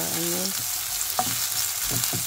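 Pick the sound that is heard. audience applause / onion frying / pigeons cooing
onion frying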